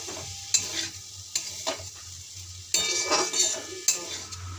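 Potato and yardlong beans fry with poppy seed while a utensil stirs and scrapes the pan, giving soft sizzling and a few sharp clinks at close range.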